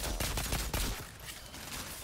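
Flame gun firing in the Outriders video game, a dense, continuous roaring burst of fire and shooting that is loudest at the start and thins out after a sharp blast midway, with no talk.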